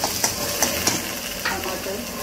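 Ginger-garlic green masala is stirred in a pan, soft sizzling under a few light scraping strokes of a spoon, close and moderately quiet.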